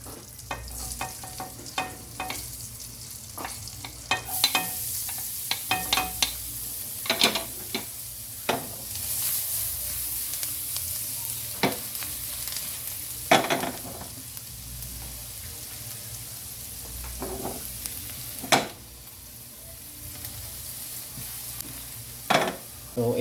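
Garlic sizzles steadily in hot melted butter for a crab-in-coconut-milk dish. Frequent sharp clicks and scrapes of a spoon stirring against the pan rise above the sizzle throughout, close and moderately loud.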